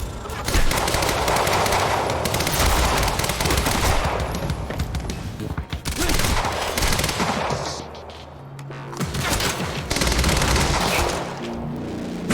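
Heavy gunfire in the Quantum Break video game: loud, continuous automatic bursts from several weapons with brief lulls between volleys, close and dense throughout.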